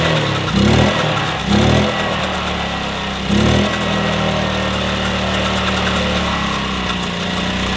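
A 1966 Honda P50 moped engine running just after a cold start, a steady close idle with a few brief revs at the beginning, then settling into an even, continuous putter.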